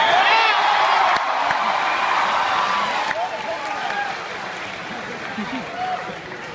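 A large concert crowd at a Pokemon Symphonic Evolutions show applauds and cheers steadily, with scattered whoops and whistles rising above dense clapping that tapers slightly toward the end.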